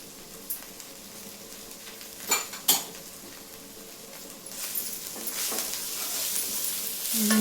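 Cinnamon, cloves, cardamom and roasted gram dry-roasting in a pan for a village-style country chicken sambar, a faint crackle with a few sharp scrapes and clinks of a spoon stirring against the pan.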